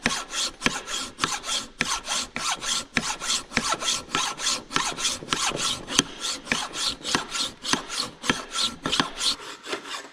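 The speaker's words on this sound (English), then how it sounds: "Well, we do that by filing it down." A hand file scrapes metal on a starter in steady back-and-forth rasping strokes, close and fairly quiet, repeating roughly every half second without speech.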